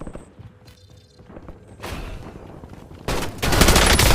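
Gunfire in the Warzone shooter game, with scattered shots and thuds early on, then louder rapid bursts of automatic fire that build to a dense, close volley near the end.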